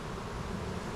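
Honey bees at a hive hum in a dense, steady buzz that fills the whole second at an even, close level with no voices.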